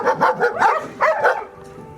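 Several dogs bark in quick bursts at a breeding farm raising German Shepherds, Boerboels and German Spitz, a cluster of loud, close barks in the first second and a half, then fading.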